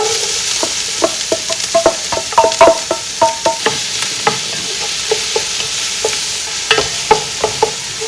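Chopped onion sizzling in a hot pan with garlic, steady frying hiss under irregular scraping and tapping of a utensil as it is stirred, close and fairly loud, no talk.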